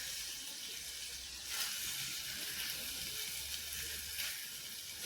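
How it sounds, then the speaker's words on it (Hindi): Sweet corn cooks in a covered pan with a little water, a soft steady sizzling hiss that stays faint and even, with no one speaking. "थोड़ा सा पानी और डालूंगी और ढककर पकाएंगे।"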